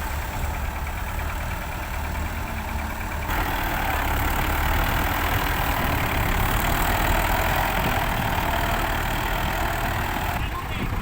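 Engines of a ten-wheel sugarcane truck and a farm tractor labor steadily while pulling the truck out of deep mud, a continuous loud rumble that swells slightly partway through, with people talking over it.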